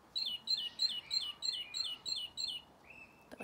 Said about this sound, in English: These are soft toys, and inside is the recording of a real bird sound. This is a great tit.